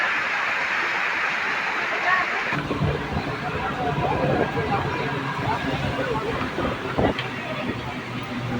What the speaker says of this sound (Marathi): पाऊस भरपूर जोरदार आला आहे बघा भरपूर पाऊस लागतो